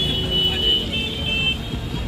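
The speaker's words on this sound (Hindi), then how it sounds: "traffic jam" Road traffic stuck in a jam in the town of Chaibasa, a steady loud rumble of engines and vehicle noise with a constant hum and no clear horn blasts.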